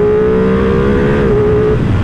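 A 2023 Ducati Panigale V2 Bayliss motorcycle engine revs loudly and close up, holding a strong steady tone that briefly shifts pitch before easing off, with no talking.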